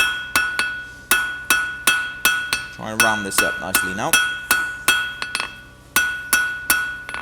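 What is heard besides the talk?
blacksmith hammering hot steel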